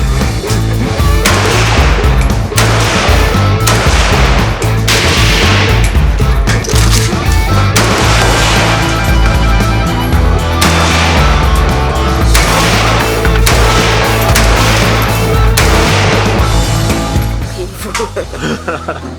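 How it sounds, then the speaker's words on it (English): A fixed, locked-in-place gun fired at the Cu Chi Tunnels shooting range in Vietnam: loud, close, booming shots repeat roughly every two to three seconds over steady range noise, with people talking in the background. "That was actually our first time shooting a gun ever."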